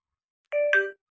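A two-tone electronic bell ding used as a subscribe reminder, sounding once cleanly and alone against silence, bright and close.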